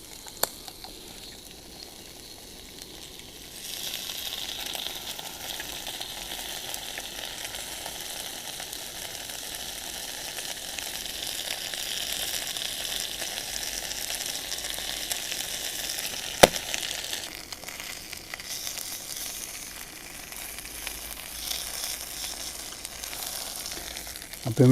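A full English breakfast sizzles in a non-stick pan on a Jetboil Minimo camping stove, a steady hiss of frying that swells after a quiet start, with a sharp clink partway through.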